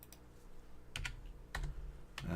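Keys clatter on a computer keyboard in short bursts of typing, close and fairly quiet, with brief pauses between clusters of clicks and a faint low hum underneath.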